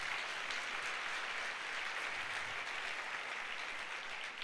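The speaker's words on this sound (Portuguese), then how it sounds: "dê um aplauso ao Senhor Jesus" A church congregation at a generational gathering applauds for Jesus, a steady dense wash of many hands clapping that holds evenly for several seconds with no voices rising above it.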